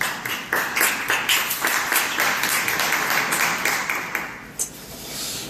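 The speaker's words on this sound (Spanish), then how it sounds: "un aplauso para ellos" An audience applauds panel speakers at a startup event on luxury housing technology, giving a brief round of clapping of moderate loudness that fades gradually toward the end.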